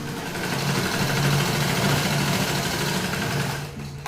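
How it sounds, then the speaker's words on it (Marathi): Sewing machine stitching cups into a kurti, a continuous close whirring run for about three and a half seconds before it slows and stops. "इथे मी मिडल स्टिच न देता स्टिच करून घेणार आहे या पॉईंट ते या पॉईंट"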